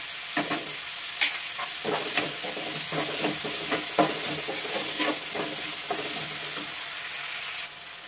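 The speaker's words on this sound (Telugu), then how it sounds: "కొంచెం నీచు వాసన రాకుండా అల్లం పేస్ట్ బాగా ఫ్రై చేసుకుందాం" Onions and green chillies fry with ginger paste in a pan, a steady sizzle running throughout while a spoon scrapes and stirs in repeated taps and strokes, close and clear.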